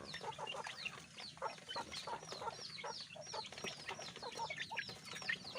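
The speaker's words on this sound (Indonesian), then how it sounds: "Ini hasil perkawinan ayam kampung dengan ayam Bangkok." Many crossbred village and Bangkok chickens, about eleven, cluck and chatter together in a busy, continuous jumble of short calls, close by and fairly quiet, with no talking.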